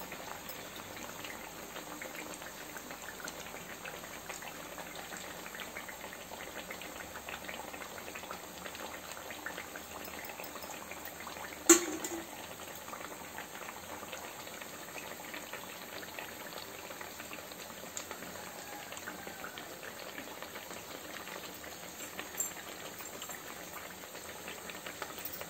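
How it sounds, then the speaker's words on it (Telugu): Bottle gourd vadas frying in hot oil, a steady soft sizzling and bubbling that continues throughout with one brief clink, no talking. "రెండు వైపులా ఫ్రై చేసుకోవాలి."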